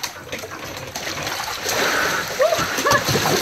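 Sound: children swimming and splashing in the Atlantic Ocean

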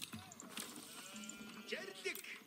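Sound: sheep bleating in Age of Empires 4 video game

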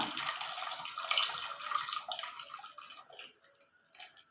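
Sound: tamarind water being poured into cooking fish curry

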